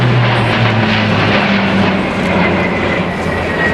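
A C-130J Super Hercules at the Farnborough Air Show in 2010 roars loudly and nearby, its Rolls-Royce turboprop engines and propellers making a steady, dense drone with a throbbing low hum.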